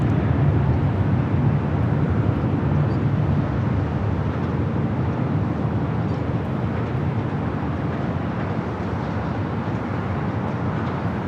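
A Spirit Airlines jet at LAX airport produces a loud, steady broadband engine roar, continuous and close without breaks.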